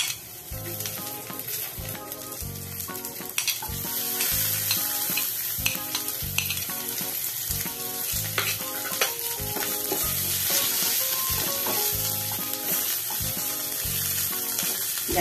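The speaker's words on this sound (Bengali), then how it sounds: "পেঁয়াজগুলোকে হালকা হালকা করে ভেজে নিচ্ছি।" Chopped onions frying over a medium flame in oil tempered with bay leaf and whole cumin, a loud steady sizzle with rhythmic spatula scrapes stirring them in the pan, close up and without talking.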